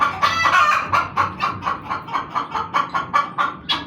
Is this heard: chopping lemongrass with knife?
no